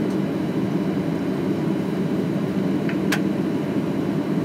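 Steady, loud cabin roar inside an ANA airliner taxiing to a stop at Oita Airport after a flight from Haneda, a low broadband rumble throughout with a brief sharp tick near the end and no talking.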